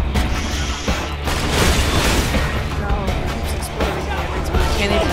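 Explosions and bursts in the video game Borderlands 2, booming and popping almost continuously across a dense, loud mix with mechanical game noise and people chatting underneath.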